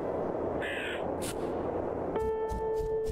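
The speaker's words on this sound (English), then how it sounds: "Crows get distressingly large around here." Crows caw in The Librarian game, a couple of harsh calls early on against a steady ambient backdrop, followed by a sustained tonal drone and faint distant bursts.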